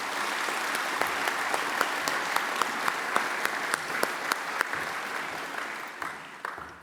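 Steady audience applause following a didgeridoo (yidaki) performance at a National Apology anniversary breakfast, a continuous wash of clapping with a few sharper claps standing out, fading toward the end.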